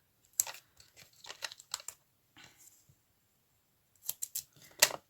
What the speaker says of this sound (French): Enfin, mes petits ciseaux.